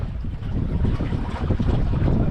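A sailboat cuts through choppy sea on a sail trip from Kekova to Kaş, with steady rushing water, splashing waves and heavy wind buffeting the microphone throughout.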